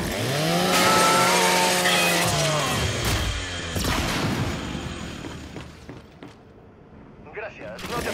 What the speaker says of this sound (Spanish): Usa la motosierra de tu Lancer.